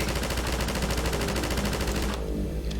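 An emplacement rifle in Half-Life 2 fires a rapid, even stream of loud shots close by for about two seconds, then cuts off abruptly, leaving a faint tail.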